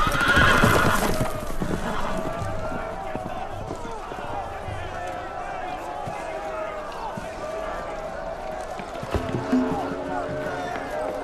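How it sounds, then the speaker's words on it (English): Horses whinny loudly up front while hooves clatter and pound in a busy rush, with shouting voices and commotion mixed in throughout, in the Telltale Game of Thrones video game. "The horses! They're loose!"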